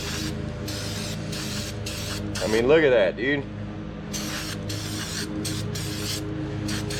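Throttle body and air intake cleaner sprays in a loud hissing burst into the throttle body of a 2009 Hemi Ram 1500, with a second short spurt just after, amid steady background noise and someone talking.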